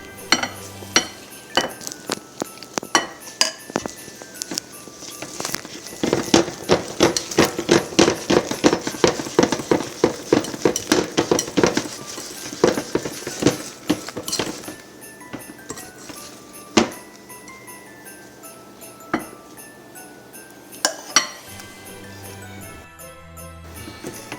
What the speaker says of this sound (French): quand vous avez fini de bien mélanger votre pâte